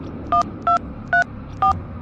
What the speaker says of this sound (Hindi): पंडित को फोन लगाता हूँ।